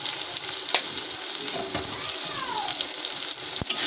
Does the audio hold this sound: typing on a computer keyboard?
no